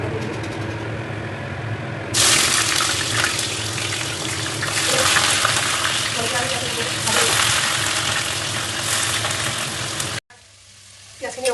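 Onions and chicken sizzle loudly in a pan for a simple home-cooked chicken dish, a steady broadband frying hiss with stirring scrapes that swells and eases, then cuts off abruptly near the end to a quieter background.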